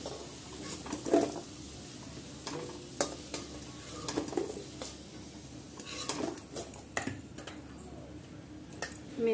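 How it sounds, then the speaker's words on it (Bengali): Potatoes frying in oil for a Bengali aloo potol curry, with a steady soft sizzle under repeated scraping and stirring of a pan, plus occasional utensil clinks, close by and fairly quiet. "আলুটা আমি ভেজে নেবো ভালো করে।"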